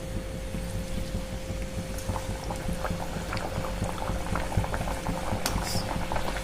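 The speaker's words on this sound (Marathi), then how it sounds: "शक्यतो मोठ्या फ्लेमवरतीच तळून घ्या, जेणेकरून अजिबात तेलकट होत नाहीत" Puris of spiced, salted dough deep-frying in hot oil over a high flame, a steady dense bubbling sizzle with scattered crackles throughout, close and continuous with no talking.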